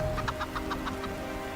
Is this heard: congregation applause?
no